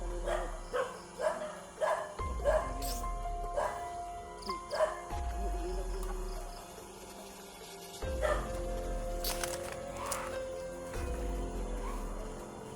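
A dog barks repeatedly in short bursts, with some yips and whimpers between, moderately close and fairly quiet overall.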